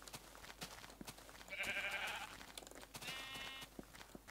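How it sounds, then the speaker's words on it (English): Sheep in a Minecraft-style farming game give two short, close bleats, one about halfway through and another a moment later, over quiet background clicks. "I've got a few sheep."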